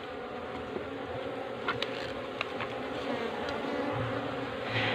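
Wild honey bees swarm and buzz around a trap box, a steady dense hum filling the whole stretch with a few louder passes close by and no talking.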